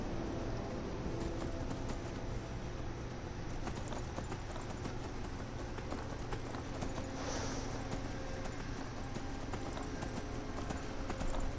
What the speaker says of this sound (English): Away, horse, away.